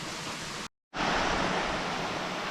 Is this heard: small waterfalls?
yes